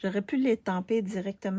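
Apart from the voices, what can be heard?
None of the usual background noises is heard.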